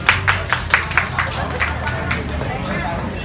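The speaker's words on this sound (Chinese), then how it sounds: "让我们掌声欢迎" Audience applause welcoming a singer onto a karaoke stage: a short burst of scattered claps that fades into crowd murmur after a couple of seconds.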